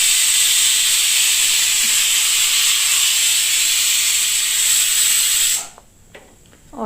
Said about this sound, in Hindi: लेकिन उतने में उर्वी जो है, कुकर की सीटी बजती है तो ये बहुत डरती है।